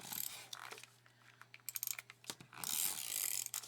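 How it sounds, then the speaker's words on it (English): A handheld tape runner rolls adhesive onto paper, giving a faint ratcheting whir with soft clicks, then a longer hissing pull near the end, quiet and close. "And now we will just put our tape runner"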